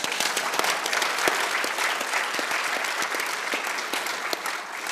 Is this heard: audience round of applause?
yes